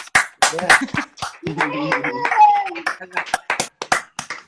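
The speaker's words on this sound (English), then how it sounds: "Another round of applause for Don Biswas." Scattered hand claps ring out for a comedian on an online comedy show, crisp and close, mixed with people talking over them.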